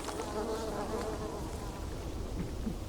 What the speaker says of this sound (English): I hope I'm not allergic to bees.